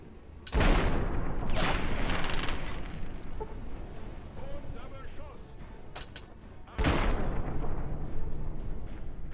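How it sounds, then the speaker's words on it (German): A grenade fired and exploding in the video game Fallout 3. Two heavy booming blasts land a few seconds apart, each with a long rumbling tail, and a voice speaks between them. "Die Granate aus der Hand geschossen."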